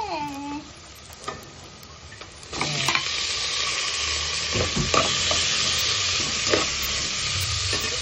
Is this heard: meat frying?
yes